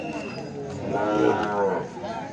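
At a busy village cattle market, a young calf gives one drawn-out, mid-distance moo over a constant wash of crowd murmur and background noise.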